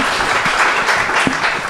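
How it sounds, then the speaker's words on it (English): A crowd applauds continuously, a dense patter of many hands clapping at moderate volume, no voices standing out. "Give a round of applause."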